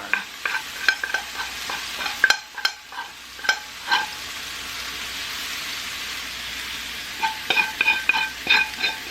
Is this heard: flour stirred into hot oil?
yes